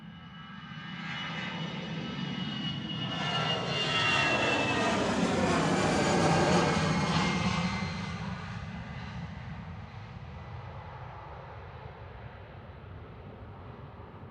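Lufthansa airliner taking off from Manchester Airport, its jet roar swelling to a loud peak mid-pass with a whining pitch sweep, then easing into a fading rumble as it climbs away.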